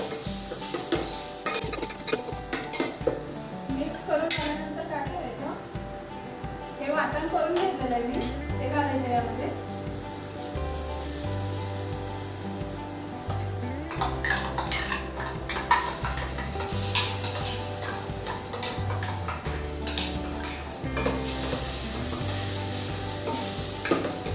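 Kat amti curry is stirred and mixed in a pan, with a soft sizzle, spoon scrapes and clinks of metal against the pan while someone talks over much of it and low background music plays.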